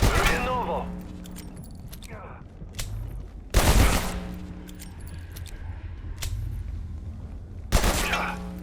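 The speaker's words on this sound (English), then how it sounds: "This is the dedicated training pistol." Training pistol fired in a video game, two sharp shots several seconds apart over steady background game sound, with a voice talking at the start.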